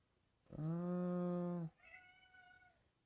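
A cat lets out one long, loud, drawn-out meow, followed by a softer, shorter second meow, both playing from a video with no one talking.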